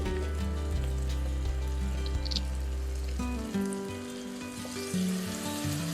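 Onion, ginger garlic chilli paste and tomato fry in a pan for methi chicken, a soft, steady sizzle sitting under prominent background music.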